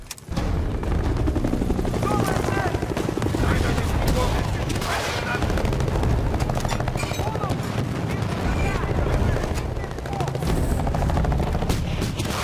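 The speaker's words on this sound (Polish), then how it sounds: "No i teraz nadlecie znowu ten śmigłowiec." A helicopter in the video game Battlefield: Bad Company 2 drones through a dense, continuous barrage of gunfire, machine-gun bursts and booms, all loud and close from start to finish.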